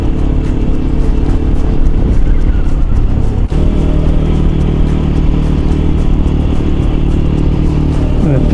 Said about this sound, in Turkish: Oh, egzoz patlıyor.